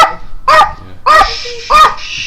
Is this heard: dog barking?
yes